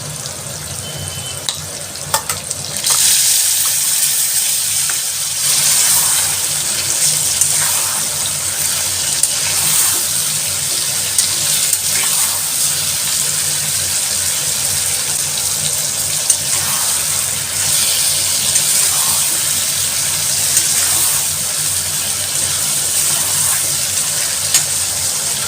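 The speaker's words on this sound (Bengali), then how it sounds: "এবার একটু মশলা ধোয়া জলটা দিয়ে দিলাম।" Spice-rinse water poured into a pan of cooking Bengali potato curry, a sudden loud hiss that settles into steady bubbling sizzle with occasional stirring clinks, close and continuous.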